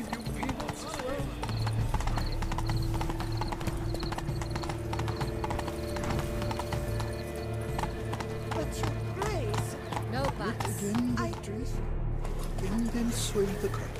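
Horse hooves clip-clop steadily at a gallop in The Witcher 3: Blood and Wine, near and continuous for about fourteen seconds, with an occasional whinny, under game music and a voice urging the mount on.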